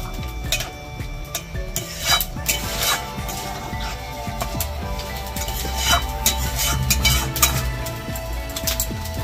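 A spoon stirs spinach paneer curry in a pot, making scraping and clinking strokes at an uneven pace against a steady low rumble of cooking, close and moderately loud.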